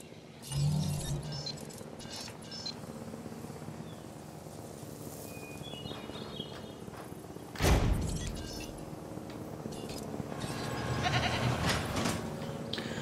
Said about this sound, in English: And of course we need our goat feeder.